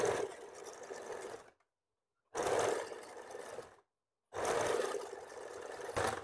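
A sewing machine stitches a blouse hem in three close, steady whirring runs, each stopping briefly before it starts again.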